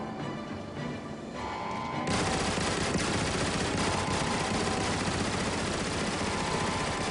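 Captured turret gun firing in the video game Transformers War for Cybertron, a loud continuous barrage of rapid automatic shots that kicks in after a brief quieter stretch and keeps hammering without pause.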